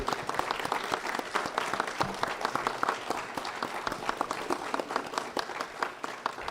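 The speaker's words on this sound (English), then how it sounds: "a round of applause for not only Professor Sarmiento but also for the rest of the group" A seated audience at the closing session of an academic event gives a sustained round of applause, dense overlapping claps steady and fairly close for several seconds, with little talk.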